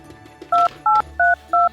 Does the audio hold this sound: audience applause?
no